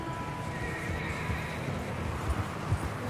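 A horse whinnies over the rhythmic clip-clop of hooves in Red Dead Redemption 2, moderately loud and near, with a faint background hum.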